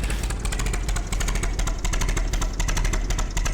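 Small tractor engine in Farming Simulator 22 running steadily and loud, a dense, rapidly pulsing mechanical drone with no talk over it.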